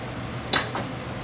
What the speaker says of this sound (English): I'm gonna go ahead and put my garlic in there, just like so